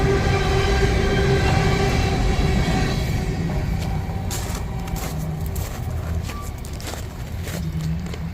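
A northbound freight train rolls past near Cartersville, Georgia, a loud steady rumble and clatter of cars that gradually eases as the passing continues.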